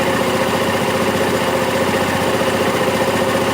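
An engine running hard at its peak RPM, a loud steady droning roar held at a constant pitch throughout, close up with no voices.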